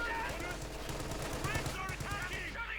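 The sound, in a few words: MG42 machine gun fire in video game Company of Heroes 2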